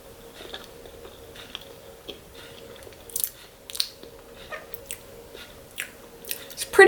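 Close, quiet bites and crunchy chewing of a grain-free, gluten-free apple muffin, small irregular crunches and mouth sounds over a faint steady hum, growing a little louder toward the end.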